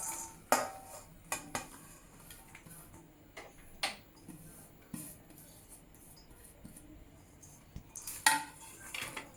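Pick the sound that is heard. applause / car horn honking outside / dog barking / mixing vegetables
mixing vegetables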